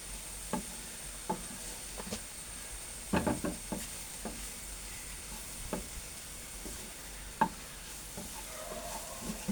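Masala for an onion curry (ullicurry) sizzling in a frying pan while a spoon scrapes and stirs, giving sharp irregular clicks and knocks over a soft constant fry.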